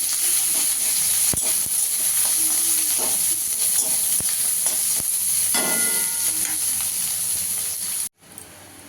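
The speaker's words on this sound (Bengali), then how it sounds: "পেঁয়াজটাকে একটু লাল লাল করে ভেজে নেব।" Chopped onion frying in oil in a pan, hissing and sizzling steadily up close, with occasional clinks and scrapes of stirring, before the sound cuts off near the end.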